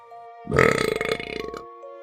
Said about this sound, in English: let out a glorious belch